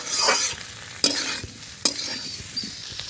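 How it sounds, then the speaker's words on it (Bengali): Ginger and cumin sizzle loudly in a hot pan as a utensil stirs them, with sharp scraping knocks against the pan over a steady frying hiss. "আদা জিরে দিয়ে দিলাম। আদা জিরেটা খুব বেশি কষবো না।"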